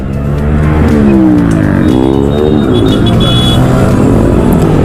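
Loud motorcycle engines, about four hundred bikes in a rally, roar and rev together up close, their pitch sweeping up and down as several accelerate at once.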